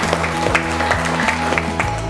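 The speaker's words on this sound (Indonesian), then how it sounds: "tepuk tangan dulu" Applause from an audience at a talk, broadband clapping with a steady low hum and a faint tonal line underneath, lasting about two seconds without a clear peak.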